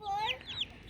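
Backyard chickens cluck in a few quick, rising calls spread over about a second, close and moderately loud against a quiet outdoor background.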